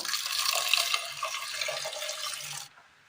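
Water pours steadily into a pressure cooker on the stove that holds breadfruit and drumstick pieces. The continuous splashing fill lasts nearly three seconds and then stops.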